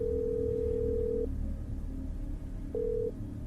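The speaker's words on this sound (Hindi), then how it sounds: "अपने फोन से अम्मा को कॉल मिलाने लगी" Steady phone dial tone as a call is placed on a mobile phone, a long continuous tone that stops, then a shorter second tone after a pause, alone with no talking.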